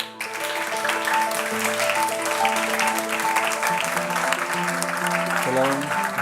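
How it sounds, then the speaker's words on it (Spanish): A large festival audience at San Sebastián gives a sustained round of clapping to welcome four film directors onto the stage, steady and dense, with music playing underneath. "vamos a recibirles a los cuatro con un fuerte aplauso"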